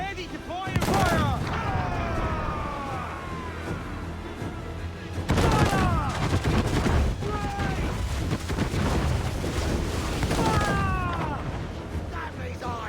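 Ship cannons firing in a naval battle in Assassin's Creed Black Flag, heavy booming volleys in three bursts over continuous battle noise, with voices shouting orders throughout.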